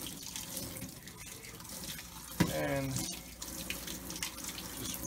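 A tap runs into a sink as running shoe laces are rinsed under it, a splashing gush that swells midway, with a voice speaking briefly.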